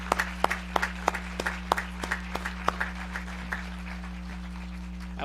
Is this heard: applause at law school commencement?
yes